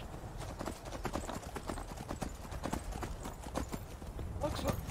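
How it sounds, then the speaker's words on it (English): Horse hooves clip-clopping in the video game Skyrim, a quick uneven run of close hoof strikes with a brief whinny near the end, under a steady low game backdrop. "Horse, come with me."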